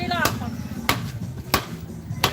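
Fish is cut at a market stall, with four sharp, separate chopping thuds spaced about half a second to a second apart and close by, over background chatter.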